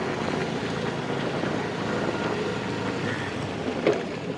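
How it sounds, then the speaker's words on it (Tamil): Strong wind on an open stretch of Kayts Island near Jaffna, a steady broadband roar buffeting the microphone throughout, loud and unbroken, with no voices. "நல்லா காற்றடிக்குது"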